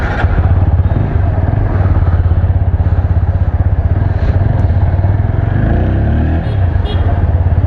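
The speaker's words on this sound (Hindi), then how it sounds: "तो चलिए इस बाइक को चलाते हैं और देखते हैं कि कैसा इसका परफॉर्मेंस है" A TVS Apache 200 4V 200cc motorcycle being ridden, its engine a loud, steady close-up drone with a rapid pulsing rumble throughout and some wind and road clatter.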